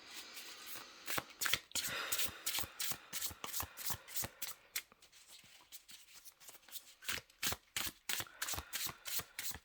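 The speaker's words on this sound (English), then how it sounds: "Let me shuffle for a second." Tarot cards being shuffled by hand: rapid, crisp papery riffles and slaps in irregular bursts, close and fairly quiet, with no talking.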